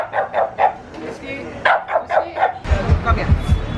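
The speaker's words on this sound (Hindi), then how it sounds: "सबको भौंक रहे फॉर नो रीजन।" Small dog barking in a home in India, several short yappy barks in bursts mixed with a woman's close, scolding talk.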